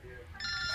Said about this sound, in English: Sent me a ringtone.